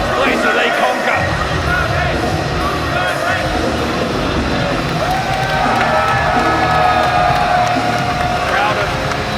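A crowd of almost 1,000 at a wrestling event in Hungary roars and cheers continuously, a loud, dense wash of voices and whoops filling the hall.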